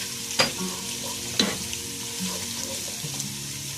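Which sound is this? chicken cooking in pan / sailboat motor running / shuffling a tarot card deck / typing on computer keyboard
chicken cooking in pan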